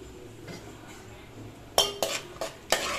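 Cashews frying in ghee in a pan on the stove, a faint steady sizzle broken late by four sharp metallic clinks and scrapes of a spoon stirring against the pan.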